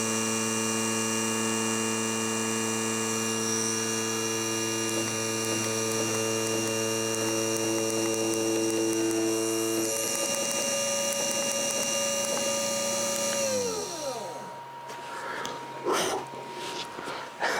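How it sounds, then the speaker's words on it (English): Small milling machine running, a steady electric motor hum and whine with several tonal lines that shift pitch partway through, then spin down near the end, heard close with no talking. "this milling machine, subtracts material"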